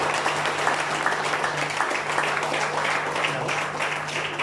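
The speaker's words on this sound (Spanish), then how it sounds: "Muchos aplausos, por favor," Guests at a quinceañera celebration applaud steadily, a moderate wash of clapping over a low constant hum from the venue.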